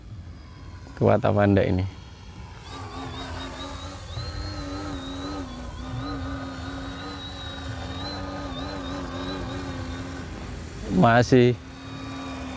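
Mini Ugly Stick RC trainer plane with a 90 cm wingspan flying overhead, a steady electric motor drone with shifting pitch throughout, heard under brief talk at the start and end.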